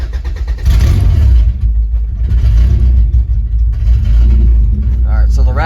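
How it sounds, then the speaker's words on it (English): A Honda Civic with a B18C1 engine cranks over and catches, then idles loudly with a low, rough rumble and a rattling exhaust throughout. "the rattling you hear is just the exhaust"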